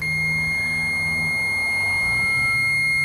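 A multimeter continuity tester on a car relay gives a steady, high electronic beep held continuously for about three seconds, with no talking.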